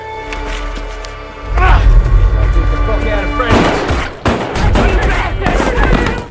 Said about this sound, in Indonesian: Sheriff Pete langsung menembak kakinya.